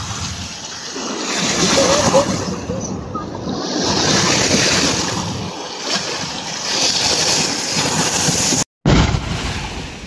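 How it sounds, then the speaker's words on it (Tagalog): Waves break and wash in steadily on a dolomite sand beach along Manila Bay, a loud continuous surf roar with gusts of wind buffeting the microphone and a brief dropout near the end. "dinadala yan ng alon dito sa dalampasigan"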